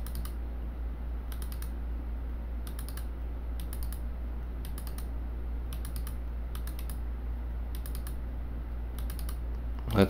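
A computer mouse double-clicks repeatedly in digital wood carving software, removing waste areas: crisp paired clicks at a steady rhythm, close and fairly quiet, over a constant low electrical hum with no talking.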